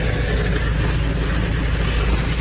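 A tractor engine rumbles steadily while dragging a hooked-up load, giving a dense, continuous low drone at constant loudness.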